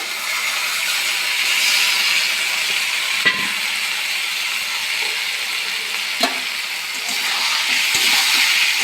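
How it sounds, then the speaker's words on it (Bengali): Boiled, drained soybeans hiss and sizzle in hot oil with spices, a steady loud frying crackle with a few sharp stir clicks from a utensil in the pan. "এবারে সেদ্ধ করে জল ঝরানো সোয়াবিনগুলো দিয়ে দেবো"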